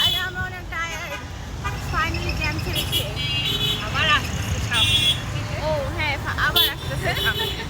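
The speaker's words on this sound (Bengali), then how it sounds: "আমরা জ্যামে আটকে আছি।" Road traffic in a jam, close and busy: engines idle and rumble, horns toot and warble repeatedly, and people talk over the din.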